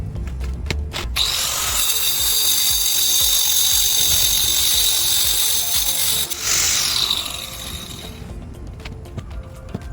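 An angle grinder fitted with a used WonderBlade cuts into brick and stone, a loud, harsh whine grinding steadily at close range for several seconds before it dies down and trails off with scattered clicks and handling noise.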